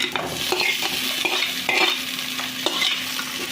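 Sliced okra sizzling in hot oil with ginger garlic paste and green chilli, a steady close frying hiss broken by regular scrapes and clicks of a spoon stirring the pan, no voices.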